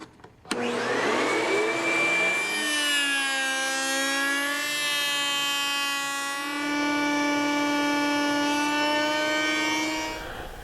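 A router table spins a cope bit for a wood panel door, its motor kicking on with a sharp start and then holding a loud, steady, high whine for several seconds, with no voices.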